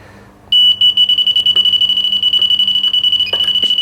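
A handheld beeping device locks into its warble alarm setting, holding a loud, steady high-pitched electronic tone in rapid pulsing beeps after a short quiet start.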